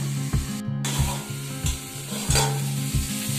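Vegetable stalks fry in a pan, a close, steady sizzle broken by regular scraping stirs over a low, rhythmic mechanical hum.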